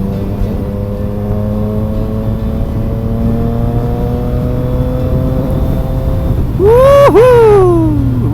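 A Triumph motorcycle engine droning steadily while cruising on a skyway, then rising sharply in pitch as the throttle opens, heard from the rider's position with wind noise.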